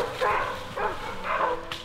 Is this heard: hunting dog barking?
yes